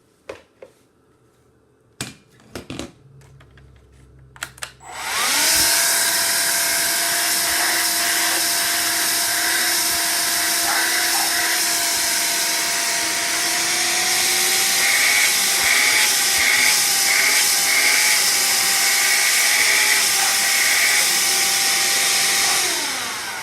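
A Hoover Air Cordless Lift vacuum cleaner starts after a few clicks and handling knocks, then runs loud and close with a steady high-pitched motor whine and rushing airflow that wavers slightly in pitch as it keeps going.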